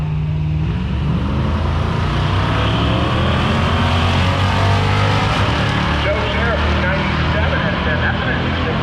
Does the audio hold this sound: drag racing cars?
yes